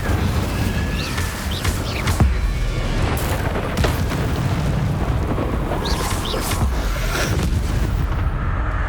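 Incendio fire spells in Hogwarts Legacy roar continuously as a dense, loud whoosh of flame. Repeated booming bursts punctuate it as the casts land one after another.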